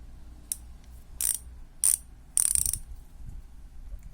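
A Novatec thru-axle bicycle hub with a steel freehub clicks in four short, sharp bursts of close, bright ratchet ticking, the last burst running longest, with no talking.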